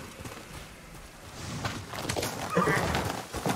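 A horse whinnies in the Ghost of Tsushima video game, a rising neigh building over the clip while hooves clop softly underneath, moderately near against a faint outdoor background, with no speech.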